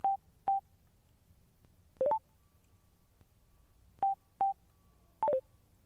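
A Cardo Freecom Bluetooth motorcycle headset sounds short electronic beep tones as its intercom button is pressed, single and paired chirps spaced a second or two apart, clear and isolated against a quiet background.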